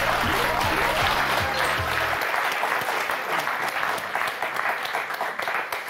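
On a French word game show, an audience claps loudly and steadily while a low musical jingle plays for the first couple of seconds, then the applause carries on alone to the end.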